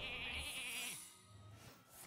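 Sheep bleating in the card game Hearthstone, two drawn-out wavering bleats one after another over faint background game audio.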